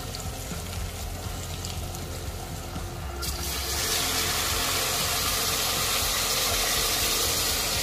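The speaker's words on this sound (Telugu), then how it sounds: "వేగనిచ్చిన తర్వాత చింతపండు పోసుకోవాలి." Tamarind juice poured into sambar frying in a pot, a loud steady hiss that swells into a fierce, sustained sizzle partway through.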